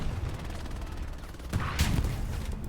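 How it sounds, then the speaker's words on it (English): An anti-tank cannon fires in the Hell Let Loose video game: a sharp blast about halfway through, followed by a harsher burst and rattle over a constant low battlefield rumble. "that's the AT cannon"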